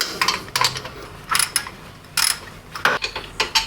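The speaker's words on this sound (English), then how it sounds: "Switching to a ratchet." A ratchet loosens a 13mm bolt on an engine mount of a B-series Ford Falcon, giving loud, close bursts of rapid clicking in several short strokes separated by brief pauses.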